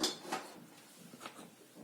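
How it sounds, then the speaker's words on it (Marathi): A metal kadai is set down on a gas stove in a home kitchen while tinde and chana dal are being cooked, heard as a couple of light metallic clanks, faint and close, with quiet room tone between. "आता आपण कढई ठेवूया"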